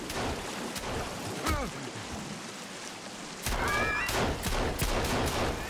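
Gunfire in the Sons of the Forest survival game comes as sharp repeated shots over a noisy, busy background, with the shots clustering more densely in the second half.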